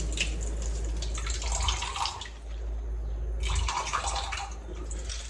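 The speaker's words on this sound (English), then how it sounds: "I drain it in the sink" Water trickles and splashes into a sink as it drains from a leca-filled plant pot, in two uneven bursts separated by a short lull.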